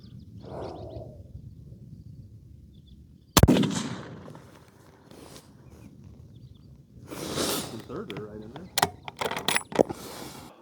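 A hunting rifle fires one loud, sharp close shot that fades quickly, followed by mechanical clicks and rattles of handling the gun and some movement noise.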